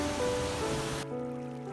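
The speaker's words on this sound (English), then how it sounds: "The water from the mountain flows to town." Spring water from the mountains flows in Tsuru, Yamanashi, a close rushing stream that cuts off abruptly into a quieter, calmer trickle with a low steady hum beneath.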